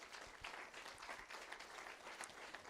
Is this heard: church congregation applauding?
yes